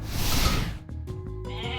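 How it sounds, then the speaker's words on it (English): Goats bleat in an Age of Mythology match: one loud, wavering bleat rings out clearly and briefly, with game sounds behind it. "Blue does find the goats."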